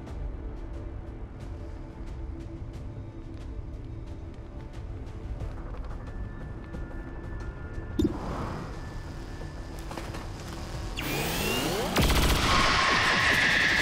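Gunfire from the turn-based strategy game Long War 2, an alien fortress mission, with sharp repeated shots and bursts that build into a loud, dense volley near the end.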